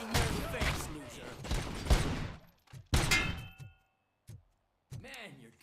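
Gunfire in the video game RoboCop: Rogue City, loud bursts of rapid shots followed by a few isolated bangs and pauses, with a voice talking over part of it.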